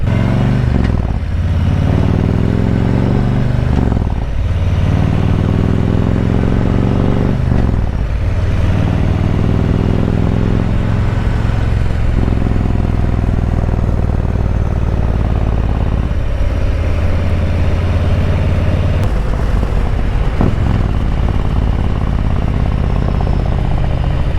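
A Harley-Davidson Road King touring motorcycle rides along under a loud, steady engine rumble with continuous wind roar, the note dipping and rising a few times as it shifts and changes speed.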